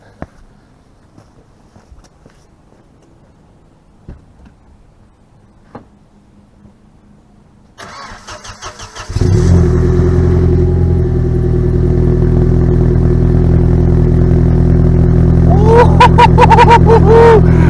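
A car engine cranks and fires into a loud, deep, raspy idle from straight pipes, holding steady and rumbling close by.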